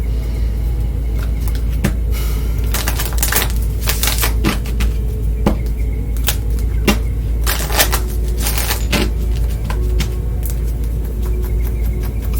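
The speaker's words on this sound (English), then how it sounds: "Shuffle up and deal." A deck of tarot cards shuffled up close, with dense bursts of crisp riffling and flicking over a steady low hum, no talking.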